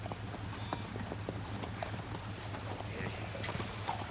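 Horse hooves clip-clop steadily in a cartoon, a rapid even trot of hoofbeats over constant background noise with faint voices mixed in.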